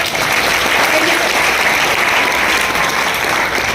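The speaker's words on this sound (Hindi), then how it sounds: "ताली बजाइए एक बार।" A seminar audience at a direct-selling business plan presentation applauds together in a steady, dense wash of clapping that runs loud and unbroken throughout.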